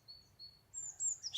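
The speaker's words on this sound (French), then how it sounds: "les petits oiseaux ont repris. Je sais pas si vous entendez" Small birds sing faintly in spring, with thin high chirps and short trills in a quiet outdoor setting.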